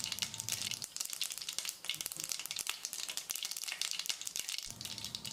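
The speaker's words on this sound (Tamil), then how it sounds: "கடுகு பொரிஞ்சிருச்சு" Rapid irregular popping and crackling of mustard seeds spluttering in hot oil while making rasam, sharp close pops over a sizzling hiss.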